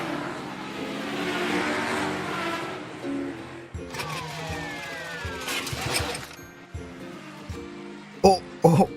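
A cartoon race car idles and then revs up, with whining, rising engine tones. Cartoon voices talk over it, and sharp clattering hits come near the end.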